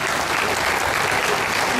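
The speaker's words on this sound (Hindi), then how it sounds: "इसलिए तालियां बजानी है तो अपने अच्छे स्वास्थ्य के लिए बजाओ" Audience at a Hindi comedy poetry recital breaks into steady, dense applause, loud and continuous throughout, with no talk over it.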